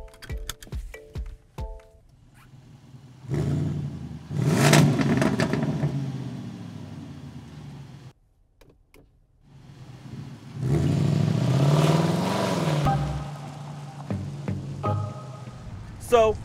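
A Land Rover Defender 90 V8 on the move, its engine swelling in two long revving surges with a brief lull between, plus some clicks and faint rattles at the start and end.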